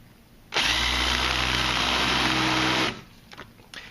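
A power drill spins an external chamfer tool on the end of a cut threaded metal rod, giving one loud, steady whirring grind of about two seconds that starts and stops abruptly, followed by a few faint clicks.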